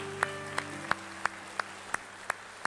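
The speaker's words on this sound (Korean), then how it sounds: "우리 서로에게 한번 잘 오셨다고 환영의 박수 한번 하겠습니다." Church congregation at a Korean new-members worship service gives a slow, sparse welcoming applause: evenly spaced single claps about a third of a second apart, moderately loud, with a faint sustained tone underneath and no talking.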